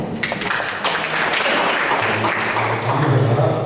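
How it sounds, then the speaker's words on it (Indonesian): Dense, steady clapping fills the room at a public discussion on waste problems in Batam for World Environment Day, loud and continuous with a low murmur of voices underneath. "Tepuk tangan lagi boleh nggak?"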